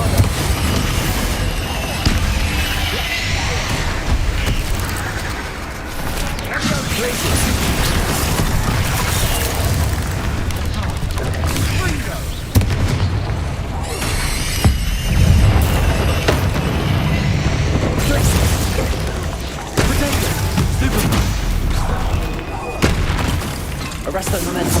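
Bombarda explosion spells in the Hogwarts Legacy video game go off as repeated heavy booms and bursts across a long stretch of spell combat, with a voice talking over the blasts.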